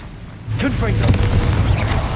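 A Confringo fire spell bursts in Hogwarts Legacy, a loud booming blast erupting after a brief quiet start and rumbling on through the clip, with vocal sounds over it.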